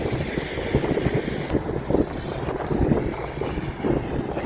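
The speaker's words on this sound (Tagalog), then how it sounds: "Itong resulta na malakas na hangin after the ice storm, well, freezing rain." Strong wind after a freezing rain ice storm roars and buffets steadily against the microphone, a loud, rumbling gusty blast with no break throughout.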